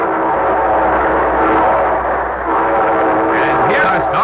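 A train horn sounds as a radio-show sound effect, a loud sustained chord with rumbling rolling-stock noise beneath, the horn swelling toward the end.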